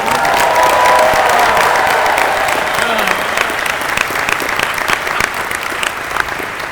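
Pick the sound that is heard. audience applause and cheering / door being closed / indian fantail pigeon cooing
audience applause and cheering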